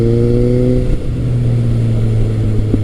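A Suzuki Bandit 1250S motorcycle accelerating smoothly as the throttle rolls on, a loud, close, steady engine drone with a slight pitch dip and no voices.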